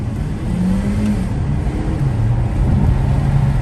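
Peugeot 508 PSE hybrid car accelerating smoothly, a steady low engine and road drone with a rising tone, heard from inside the cabin at constant loudness.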